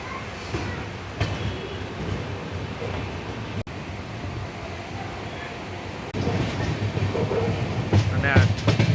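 Superfast train no. 20959 running on rails between Gandhinagar and Vadnagar, heard from on board as a continuous rumble with clatter and a brief jolt, growing louder toward the end; faint voices in the background.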